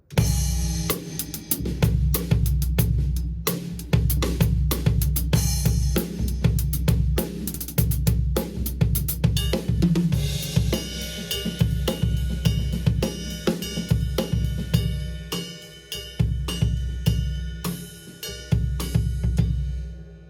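A drum kit plays continuously and loudly, with dense rapid hits, cymbal washes and brief pauses between busy fill patterns.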